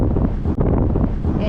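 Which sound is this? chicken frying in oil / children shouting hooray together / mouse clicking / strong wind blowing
strong wind blowing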